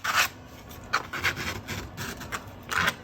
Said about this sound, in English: What if I scrape at it a little bit?